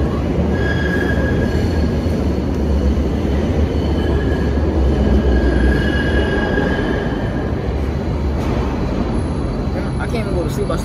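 A subway train rides the rails with a continuous loud rumble and rattle, high wheel squeals rising and fading, heard from inside the car while people talk over it.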